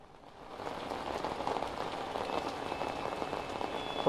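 Steady, dense heavy rain pours down in Bengaluru, Karnataka, a constant hiss of drops hitting surfaces that swells slightly and then holds.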